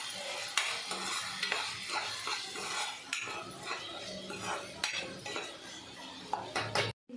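Tomatoes cooking for pav bhaji with salt and turmeric are stirred in a sizzling pan, with repeated scraping and clinking of a metal spoon against the pan over a low steady fry.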